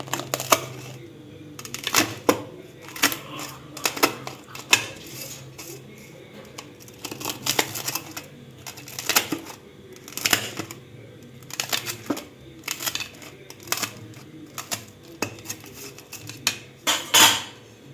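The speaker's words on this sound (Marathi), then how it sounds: "आता आपण हा पिझ्झा कट करून घेऊया. हे बघू शकताय किती क्रिस्पी झालाय, तुम्हाला आवाज येत असेल" Knife cutting through a crispy homemade tawa pizza made without an oven, giving a string of sharp, irregular crunching and cracking clicks, close and fairly loud, with faint background hum and no talk.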